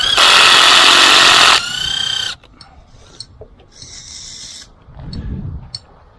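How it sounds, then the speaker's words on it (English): A power driver runs screws into asphalt in cold weather, with a loud harsh grinding whir for about two seconds, then quieter scraping, short buzzes and scattered handling knocks. "runs these screws right into the asphalt."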